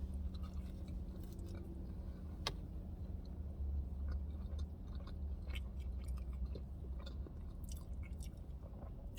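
Whataburger fries dipped in creamy pepper sauce are chewed close to the mic, giving soft, moist munching with a few crisp bites over quiet room noise and no talking.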